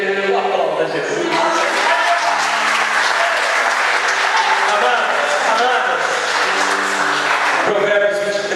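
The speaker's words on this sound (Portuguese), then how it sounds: "Aplauda Jesus." A church congregation applauds after worship singing, a steady wash of clapping heard beneath sustained voices and tonal sound, continuous for most of the eight seconds.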